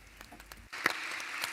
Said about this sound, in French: Vous méritez nos applaudissements.